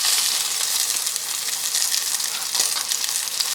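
Garlic frying in a pan just after salmon was cooked in it, a bright continuous sizzle and crackle heard up close with a few small scrapes, no voices.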